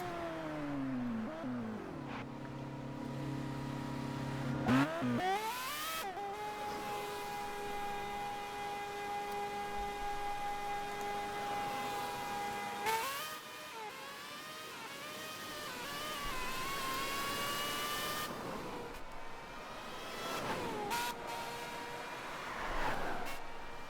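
Formula One car engines scream through the S curves at Suzuka in a racing video game. The high, whining notes rise and fall with gear shifts and repeated revving, steady and fairly faint throughout, with no talk.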